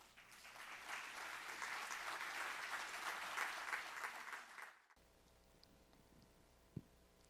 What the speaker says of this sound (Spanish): La vamos a recibir, por favor, con un caluroso aplauso